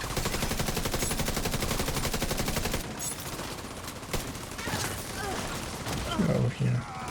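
A video game turret firing a rapid, evenly spaced stream of shots for a few seconds, then stopping as scattered quieter game sounds and a voice follow.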